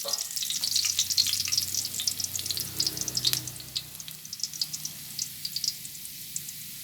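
Garlic sautéing in a pan until golden, a dense steady sizzle with crackling pops throughout and a few soft stirring scrapes, close and fairly loud with no voices.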